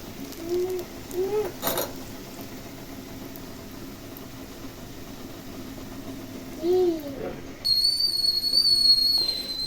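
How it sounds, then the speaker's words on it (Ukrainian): A kettle begins whistling near the end, a piercing steady tone rising sharply after quieter kitchen clatter and a few short squeaks. "Чайник вже свистить повним ходом."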